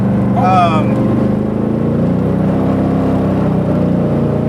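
A light 1972 DeTomaso Pantera with a high-powered 351 Cleveland V8 pulling hard, a steady loud engine drone heard from inside the car, with a brief voice near the start.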